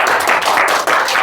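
Brief burst of audience applause offered as encouragement at a graduation lecture, a dense, loud wash of many hands clapping at once with no pause.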